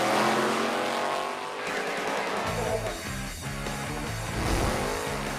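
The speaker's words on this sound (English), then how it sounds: "We got a new motor in the car. It's a Pro Mod. It's a V8 big block" A Pro Mod drag racing car with a V8 big block engine on qualifying day at the Emirates Motorplex in Dubai: a loud, continuous engine roar with a shifting rumbling pitch, close and dominant, with no clear voices.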